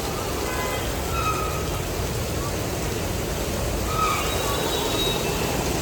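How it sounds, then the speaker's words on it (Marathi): Steady rain pours down with a constant dense hiss of drops hitting surfaces, even and unbroken throughout. "मस्त पाऊस पडतो आणि आम्ही मस्त पावसात अडकलोय"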